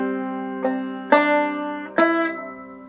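Clawhammer banjo plays a short phrase of I Saw Three Ships without hesitations, three bright plucked strums ringing out close and clear with no voice.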